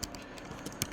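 Quiet, rapid keystrokes on a computer keyboard, a short burst of light irregular taps heard alone at close range.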